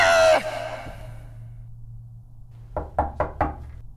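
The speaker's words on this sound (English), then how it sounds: "Broke down the wrong door." A door being broken down during a police-style raid: a loud opening crash, then a lull, then four quick heavy bangs in a row, close and with no voices over them.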